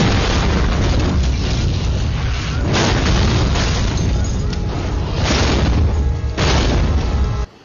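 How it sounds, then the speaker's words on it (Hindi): Car blast explosion effects staged for a movie chase sequence: loud, dense booming bursts rolling continuously with repeated heavy swells, ending abruptly. "ये तैयारी की जा रही है एक चेजिंग सीक्वेंस की, कार के ब्लास्ट की"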